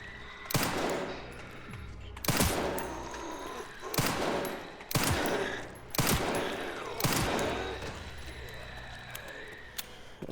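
Gunfire in Resident Evil Requiem: about six loud, close shots spaced a second or two apart, each with a sharp crack and a ringing decay.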